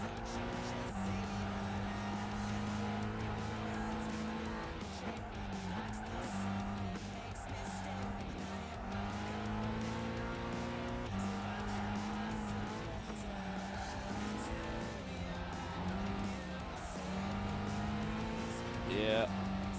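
A race car driven hard on the limit in Gran Turismo 5, its engine droning and shifting pitch with repeated tire squeal through corners, steady and close, with a person talking over it at times.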